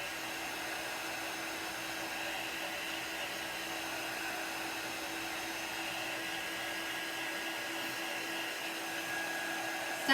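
A heat tool blows steadily over a marshmallow chalk craft design, an even whirring, airy hum that holds at a constant level throughout without talk.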